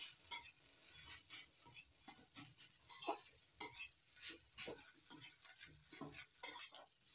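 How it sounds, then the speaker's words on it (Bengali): Spiced potato filling stirred and fried in a pan, with a spoon scraping and clinking against the metal in a steady rhythm over a soft sizzle and a few sharper knocks, close and alone. "এবার সব মশলা দিয়ে একসঙ্গে ভালো করে মিশিয়ে ভাজা ভাজা করে নেব।"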